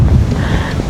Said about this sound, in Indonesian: udaranya sejuk lur, lagi berangin banget ini tuh.